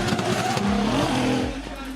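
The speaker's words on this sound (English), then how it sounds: "Clutch kicking away." A Nissan S15 drift car's engine revs and surges during a clutch kick at a D1GP drift event in Malaysia, loud and rough with rising and falling pitch, under a commentator's talk.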